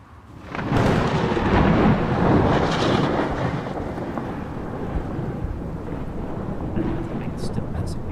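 A thunderstorm in storm clouds within the video game Kerbal Space Program, a dense continuous roar of rumbling thunder and rain-like noise swelling early and then holding steady, with no talking over it.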